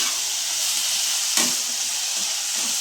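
Tomatoes sauté in hot oil for a village-style dry fish gravy, a loud, steady, close sizzle with a single stirring knock partway through.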